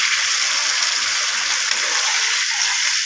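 Water is poured into a pan of spiced potatoes, giving a steady, broad rushing gush that holds at an even level throughout, close by and with no voices.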